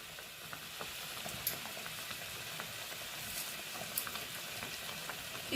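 Tomato juice with salt added sizzles and bubbles gently in a pan for a tomato chutney, giving a faint, steady crackling hiss with occasional soft pops.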